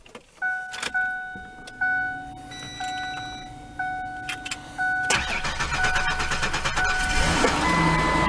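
A Ford Explorer fitted with a new starter solenoid is started after a series of dashboard chimes; the engine cranks briefly, catches, and settles into a loud, steady idle close by, with no speech.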